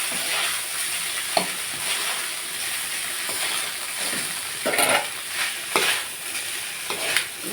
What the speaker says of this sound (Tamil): சேமியா போட்டு நல்லா மிக்ஸ் பண்ணிக்கலாம்.